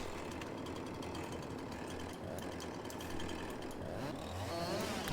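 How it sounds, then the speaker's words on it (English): Chainsaw in the Farming Simulator video game cutting small trees, a steady, buzzing engine drone that stays fairly faint and constant throughout with no voices. "the chainsaw seems to cut them very fast"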